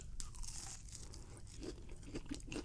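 Slightly soggy fried onion rings are chewed close to the mic in a burger-and-hot-dog meal, giving soft repeated crunches and moist mastication over a low room murmur, with no talking.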